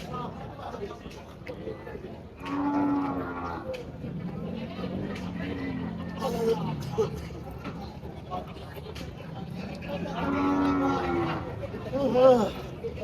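Cattle low and moo repeatedly at a busy livestock market, several drawn-out calls near and far, with people talking and crowd murmur throughout.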